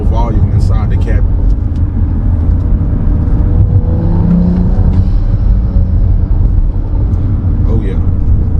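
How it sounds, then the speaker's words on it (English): Turbo whoosh and exhaust burble from a BMW 435 with an N55 engine and a high-flow catted downpipe, heard from inside the cabin as a steady loud rumble, with brief talking at the start and end. "A lot more whooshing sounds, a lot more turbo sounds going on."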